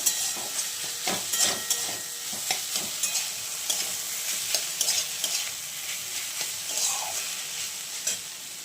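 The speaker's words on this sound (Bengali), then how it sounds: "আর এদিকে আমার চিকেনটা ভাজা চলছে, আস্তে আস্তে একটুখানি হয়ে যাচ্ছে।" Chicken fries in a pan with a constant hissing sizzle up close, punctuated by frequent spatula scrapes and stirring knocks throughout.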